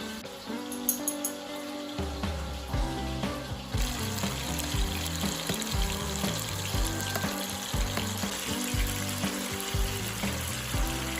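Food sizzles and crackles steadily in hot oil in a home kitchen, with a brief burst of clinking near the start, then continuous frying close by and no talk.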